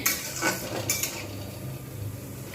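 A spoon scrapes and clinks against a pan while stirring bottle gourd kofta masala in ghee, faint and intermittent, with a few sharper knocks early on and no talking.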